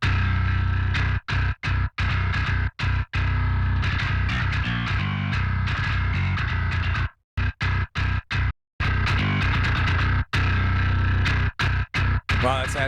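A thick bass line distorted by a Waves L4 UltraMaximizer limiter plugin plays in choppy phrases, cutting to silence several times between notes.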